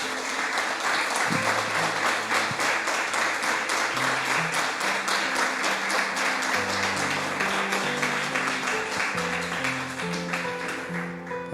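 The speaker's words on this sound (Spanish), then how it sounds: "Dale un aplauso al Señor, mi hermano." A church congregation applauding after a prayer, dense sustained clapping from many hands that fills the room evenly and tapers slightly toward the end, with music underneath.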